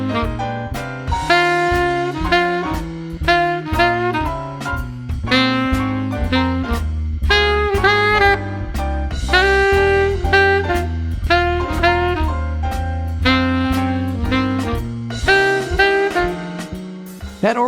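A saxophone repeats a two-note pattern over a 12-bar blues backing with a bass line. The phrases are steady, rhythmic and loud, and no one talks.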